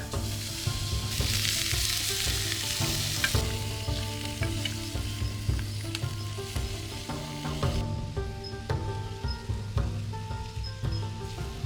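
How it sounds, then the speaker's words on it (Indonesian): Pre-boiled bamboo shoots stir-fried for a breakfast cooked in the forest: a continuous close sizzle with crackling and occasional utensil clinks, steady and fairly loud throughout, no talking. "Saya akan menumis rebungnya sekitar 3 menit saja, karena sebelumnya rebung ini sudah kita rebus."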